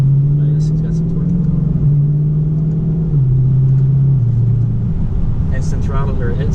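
A Dodge Challenger R/T 392 V8 drones under load while driving, its exhaust pitch stepping down with each gear change, loud and steady inside the cabin.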